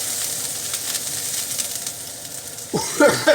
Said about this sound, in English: So, here's the sizzle.